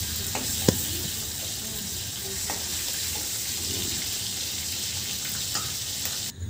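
Fish, hilsa for a poppy-seed dish, frying in hot oil with a loud, steady crackling sizzle close up, a few sharp pops and spatters throughout.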